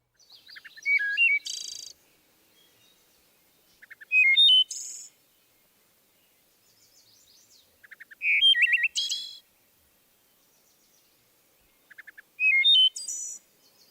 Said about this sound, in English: The wood thrush, in fact several of the thrushes, are known for their flute-like songs.